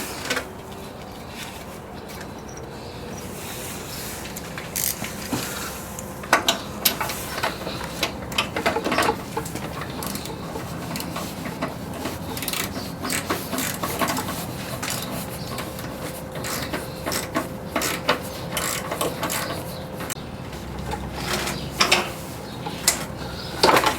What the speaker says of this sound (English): then I'll put the wrench on it